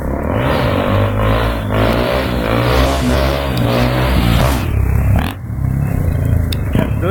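Honda XRE300 motorcycle engine revving hard and close, a loud rough drone with rising and falling throttle swells, then a brief dip before it picks up again.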